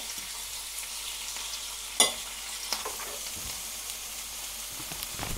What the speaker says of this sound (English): Nice, how it's sizzling.